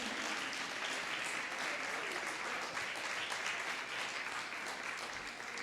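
Steady applause fills a church as the congregation claps together, a sustained, even roar of many hands, somewhat distant and soft, with faint voices beneath.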